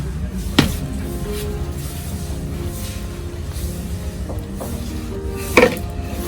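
A small plastic plant pot holding a dieffenbachia gets tapped to loosen the root ball, two sharp knocks about five seconds apart over a quiet room hum, with no speech.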